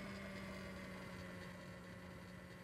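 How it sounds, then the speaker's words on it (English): A pushback tractor engine idles steadily in the X-Plane 11 flight simulator beside a Dash 8 Q400 at the gate, a faint, even, low hum with a constant tone and no talking. "And we get a nice little red tractor right here."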